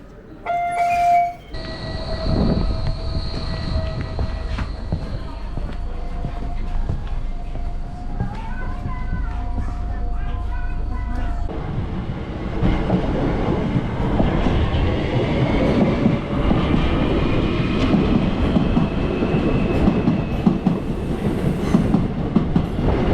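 A train on a cool October morning: chimes and quiet carriage hum give way to a louder rolling rumble and rail clatter building steadily; speech is heard partway through.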